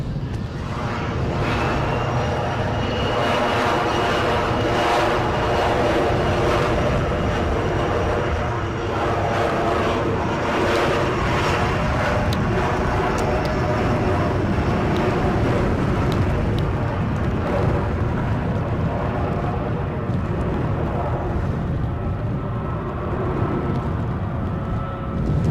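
An Airbus A321neo passes near Edinburgh airport on a gusty day, giving a loud, continuous jet roar that stays broad and steady throughout, with some wind noise.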